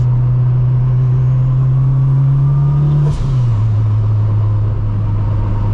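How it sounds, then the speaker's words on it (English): Built turbocharged 600 hp Honda Civic Si engine drones steadily from inside the cabin while driving, loud and constant, with a brief whoosh and a drop in pitch partway through as it shifts. "Car sounds so good."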